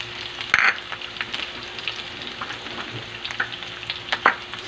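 Hotdog sautéing in a pan with garlic and onion gives a steady close sizzle, broken by a few sharp scrapes and clicks as the pieces are stirred, with no one talking.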